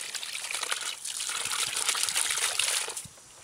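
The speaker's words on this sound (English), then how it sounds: "as you can see, the pump here is running on, that's the voltage that it's running on right now to give it that amount of water output" Water gushes and trickles steadily from a small 12-volt Toyota Prius water pump for about three seconds, close and moderately loud, before the flow cuts off to quiet.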